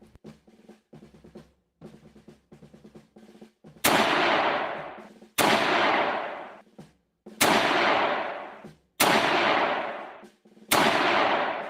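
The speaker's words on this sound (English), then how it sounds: "This is the standard issue rifle, the Lee Enfield No. 4 Mark I, that we'll be using." A Lee Enfield No. 4 Mark I rifle fires five times in a virtual reality shooting game, each shot a sharp, loud crack with a long decaying tail, spaced about one and a half seconds apart after some quieter clicking.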